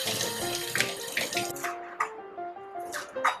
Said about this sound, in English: We're gonna drain our clams and we're ready to cook. Drain the water.